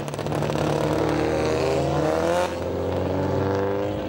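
Rally cars at a stage start in the coastal town of Ukunda, Kenya: a loud engine revs and climbs through the gears close by, with a shift midway and a continuous roar throughout.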